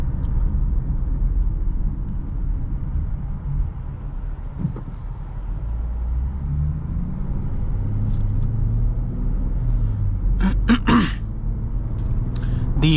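A 2023 Dodge Challenger SXT with an 8-speed automatic cruises along, its quiet engine a low, steady rumble beneath road and cabin noise, with a few short clicks and a brief rustle near the end.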